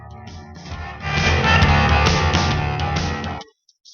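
Dirty blues soundtrack with funky horns from a space video game full of cannons and explosions, playing loud and full for about three seconds before cutting off abruptly.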